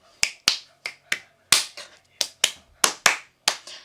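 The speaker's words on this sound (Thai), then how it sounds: "เรามาดีดนิ้วกัน" Sharp, crisp finger snaps ring out one at a time at close range, about a dozen in an uneven rhythm, each short and bright with quick decay in a quiet room.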